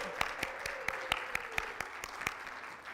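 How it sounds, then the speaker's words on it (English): A church congregation at a Sunday celebration claps in a sparse, fairly quiet round of applause, with about a dozen distinct claps spread unevenly across the moment. "please stand so we can recognize and applaud you."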